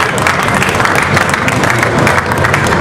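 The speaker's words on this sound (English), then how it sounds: "let's give them a round of applause." A round of applause from an audience at a Numark and Serato press conference at Musikmesse 2008, dense steady clapping from many hands, loud and close, continuing throughout without speech.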